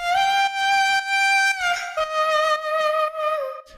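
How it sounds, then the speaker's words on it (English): A sung vocal sample treated with EQ, reverb, distortion and sidechain holds long notes that pump rhythmically in volume, bright and gritty, loud and alone. "I added some EQ, reverb, distortion and sidechain, and it sounds like this right now."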